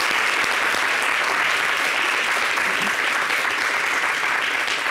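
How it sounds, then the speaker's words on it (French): A studio audience on a holiday TV show applauds a rapper, dense and loud continuous clapping at a constant level from start to finish, with no talk over it. "On l'applaudit, il est fort."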